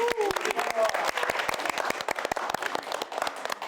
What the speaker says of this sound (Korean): 우리 다시 한번 박수 보내드릴까요?